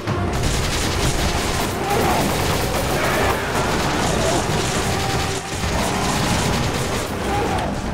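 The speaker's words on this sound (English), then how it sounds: "Oh, there's people shooting at us." Continuous enemy gunfire in the Resident Evil 5 co-op video game, a dense, steady barrage of shots and booms running throughout the clip, with no pauses and no voices.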